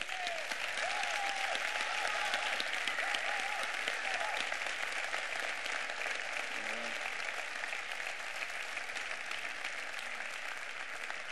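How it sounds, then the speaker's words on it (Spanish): Steady, sustained applause fills a graduation ceremony hall for the whole stretch, dense and even from a large crowd, heard from some distance at a modest level with no speech over it. "Por favor, un aplauso porque se lo merecen."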